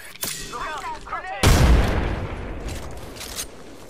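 Gunfire in the video game Apex Legends, a sudden loud burst of shots crashing in after brief in-game voice chatter, then a rumbling, fading tail with a few fainter shots, close and punchy.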